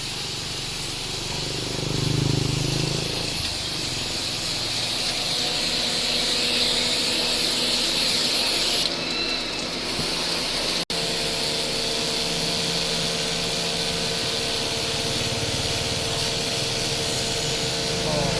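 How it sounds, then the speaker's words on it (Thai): A steady high-pressure water spray hisses continuously against the front of a Honda City car radiator, loud and close, with brief shifts in tone and a sharp click partway through. "จัดการฉีดทำความสะอาดหน้าหม้อน้ำให้นะครับ"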